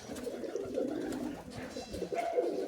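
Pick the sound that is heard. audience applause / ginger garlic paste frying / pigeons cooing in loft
pigeons cooing in loft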